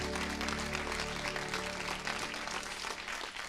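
Church congregation clapping along during a worship service, a dense steady wash of many hands with sustained music tones underneath, loud and continuous throughout.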